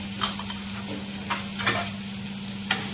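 Spices being stirred into ragda in a pan, with a soft steady sizzle and a few scraping strokes of a spoon against the pan at uneven intervals, close up and moderately quiet, with no talking.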